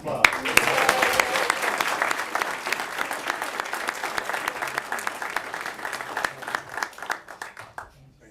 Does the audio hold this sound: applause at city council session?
yes